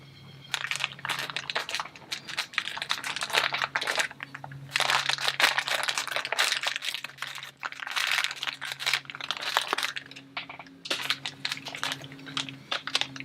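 A plastic parts bag for a model suspension-mount build is unzipped and opened, giving a run of crinkling and rustling bursts up close with short pauses between them and a low steady hum underneath.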